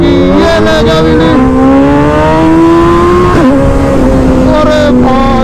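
Suzuki Hayabusa motorcycle revving hard during a wheelie on an empty road. The engine is loud and close, its pitch climbing steadily, then it drops briefly and surges again.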